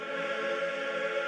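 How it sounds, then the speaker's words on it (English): A sustained augmented chord in a dark, mysterious ambient style, one steady and even tone held for about a second, moderately quiet, with no voice over it. "Although the augmented chord sounds like this,"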